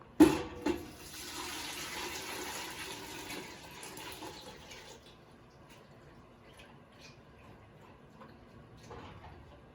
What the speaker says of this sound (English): you just add your bowl of water with your fabric into it